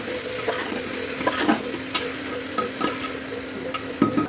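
Peas, crushed ginger and tomato stirred in a pan for fresh winter matar chole, with a steady sizzle under irregular scraping strokes and light clinks of the spoon against the metal, close and moderately loud.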